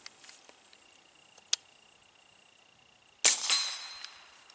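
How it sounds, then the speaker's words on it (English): A subsonic rifle round fired through a suppressor's flow-through cap gives one sharp, sudden crack with a short ringing decay, preceded by faint small clicks and a brief tap in a quiet setting. "now we're going to do a subsonic round through the flow-through cap. See what it sounds like."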